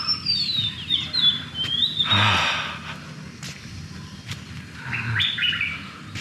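Birds chirp and tweet in short bursts, a few bright calls near the start and end, with a breathy sigh and soft rustling between.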